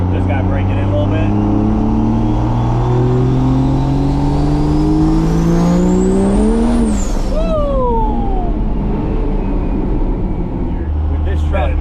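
A Cummins diesel swapped into a Squarebody truck revs hard and close, the engine note climbing steadily for several seconds to a peak and then falling away as a whistling turbo spools down, loud throughout.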